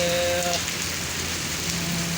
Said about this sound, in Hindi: ये आप देख सकते हैं कि बारिश का सिलसिला ज़ोर शोर से जारी और सारी है।